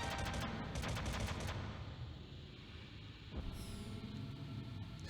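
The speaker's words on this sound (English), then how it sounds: "Stealth missile launching." Stealth missile launch in a Metal Gear Solid–themed Smash Bros video game, a loud burst of rapid rattling shots, then a whooshing rumble that fades before a second sharp hiss.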